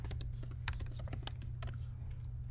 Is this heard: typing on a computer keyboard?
yes